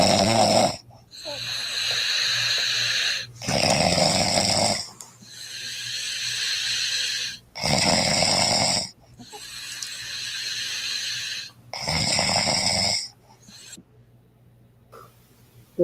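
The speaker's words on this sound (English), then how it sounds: "My beautiful wife snoring." A woman snores loudly and close, in a steady rhythm of about seven long, rasping, throaty inhales separated by short quiet pauses, with a faint low hum underneath.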